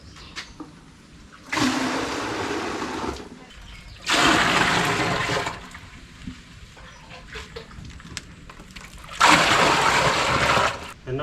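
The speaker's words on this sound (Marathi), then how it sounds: "दर 2-2 दिवसांनी हा पाणी मारायचा कार्यक्रम आहेच." Potted plants are watered with a hand spray in three separate hissing bursts, each lasting a second or two with quiet gaps between, close by and with no talk.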